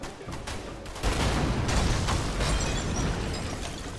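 Gunfire in the co-op video game A Way Out, a dense burst of shots and bangs rolling on for several seconds, loud and close, with no talk over it.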